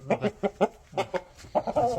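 A rooster gives a run of short, rhythmic clucking calls, close by and fairly loud, with brief pauses between bursts.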